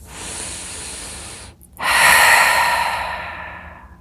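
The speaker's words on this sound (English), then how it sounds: "You take a deep breath in, you take a deep breath out." One person taking a deep breath in and then breathing out, a soft airy inhale followed after a brief pause by a louder, longer hissing exhale close to the ear.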